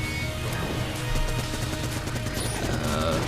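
Grenades burst in rapid succession during a busy Enter the Gungeon fight, a dense clatter of blasts and gunfire packed into a few seconds at a loud, steady level.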